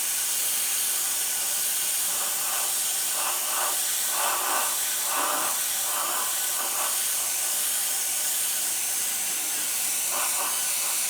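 An airbrush spraying black paint onto a guitar built from scrap wood: a steady, close airy hiss running throughout, with faint bursts pulsing in and out as the spray is worked.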